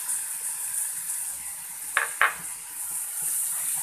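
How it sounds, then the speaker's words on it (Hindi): Ground masala paste of onion with cumin and a pinch of asafoetida frying in a pan over medium flame, a steady soft sizzle throughout with two brief clinks of a spoon against the pan midway. "और इस मसाले को हम मीडियम फ्लेम पे आराम से फ्राई करेंगे"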